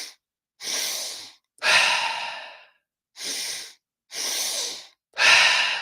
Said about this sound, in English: Notice it's 3 parts. Inhale, inhale, exhale.